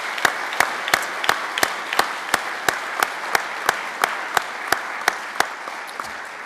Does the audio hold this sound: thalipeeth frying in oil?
no